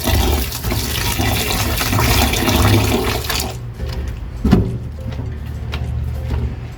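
Cold tap water runs loudly over potatoes being rinsed for an Argentine asado with pork ribs and matambre. A steady rush of flowing water fills the first half, then gives way to quieter splashing and handling sounds.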